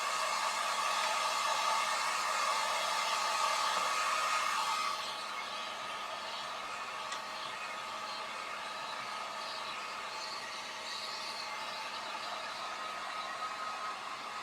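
A heat tool or hair dryer blows steadily up close to dry wet stencil ink, a loud continuous whooshing rush that drops slightly in level partway through and carries on without talk.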